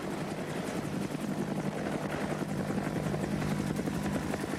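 A military helicopter flies close by with a steady, heavy rotor chop and engine roar throughout, loud and continuous with no speech.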